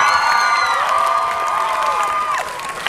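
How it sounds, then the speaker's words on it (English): An audience at an interview event with a band applauds and cheers. The sound is loud, continuous crowd noise with whoops and high shouts over the clapping for about three seconds. "please give them a round of applause"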